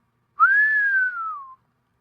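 A narrator imitates a man whistling: a single clear, sustained whistle of about one second that rises slightly and then slides gently downward, heard alone.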